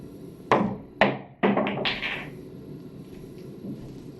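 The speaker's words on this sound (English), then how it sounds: "we're gonna use a loose wrist, and that should pop the cue ball off this, go down, and make the 3" Pool balls clack sharply three times in quick succession as the cue ball strikes, comes off the rail and sends an object ball toward the pocket, followed by softer rolling knocks fading out.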